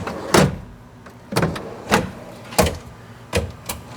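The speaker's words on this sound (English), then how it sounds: "we're going to go ahead and cycle the drawer guides and make sure everything works well" A camp kitchen drawer in a Jeep JKU Rubicon is cycled in and out on its drawer guides, making five sharp sliding thunks and clacks spaced about a second apart, close and loud, with no voices.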